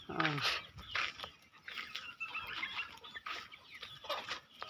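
Native country chickens, sold by weight at about half a kilo to a kilo each, cluck repeatedly and close by, with bursts of busy clucking under voices talking nearby.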